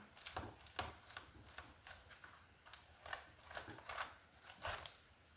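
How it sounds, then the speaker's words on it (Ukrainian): Processed cheese rubbed across a hand grater in a home kitchen for khachapuri, a run of soft, rhythmic rasping strokes, fairly quiet and close, with no voices. "І так само сирочки натираю"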